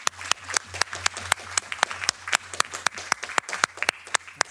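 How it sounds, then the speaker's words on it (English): Rhythmic clapping from a seminar audience after the presenters finish, sharp regular claps sounding close over a low steady hum of the meeting room. "And a big applause to our presenters of the first part."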